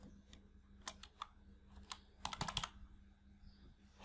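Keys clatter on a computer keyboard while a figure is entered into an Excel spreadsheet, a few scattered taps followed by a quick close burst of typing, then quiet.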